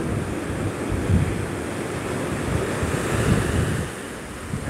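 Big typhoon waves pound the coast in Bicol with a loud, continuous roar, swelling surges thundering close over heavy wind buffeting the microphone.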